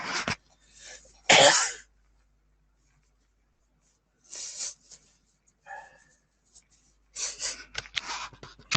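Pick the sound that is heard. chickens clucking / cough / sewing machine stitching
cough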